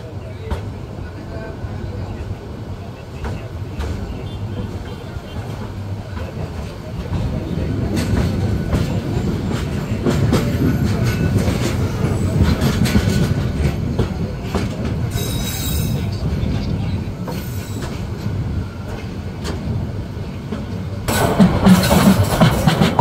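Porjotok Express train pulling out of Cox's Bazar railway station, with a steady low rumble and wheel clatter that grows louder and denser, then a sharp squeal and heavier roar near the end.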